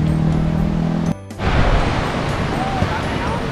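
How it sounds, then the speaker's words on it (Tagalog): Strong surf breaking along a seashore, a broad steady wash of wave noise close by, with wind buffeting the microphone and a brief dropout partway through. "Kaya alam po, napakalakas ang alon ngayon."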